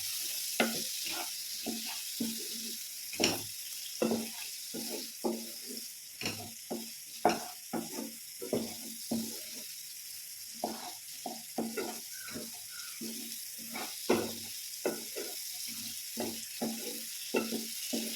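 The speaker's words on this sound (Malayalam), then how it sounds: "ഇതെല്ലാം കൂടെ നല്ലതൊന്ന് മിക്സ് ചെയ്യണം" Brinjal curry being mixed in a pan, a run of distinct close stirring and scraping strokes in irregular rhythm over a faint hiss, with a short pause midway and no talking.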